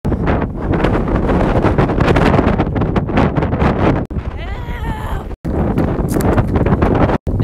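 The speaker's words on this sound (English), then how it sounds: "Oh, the wind died down long enough for me to say something." Strong 50 mph wind gusts buffet the microphone during an outdoor run, a loud, continuous roaring rumble with brief lulls and a couple of sudden dropouts.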